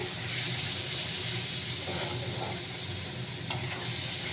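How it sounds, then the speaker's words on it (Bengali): Food frying in a pan on a home stove is stirred steadily, a continuous sizzling hiss with soft scraping strokes throughout, with no voices. "ভালো করে নাড়তে হবে।"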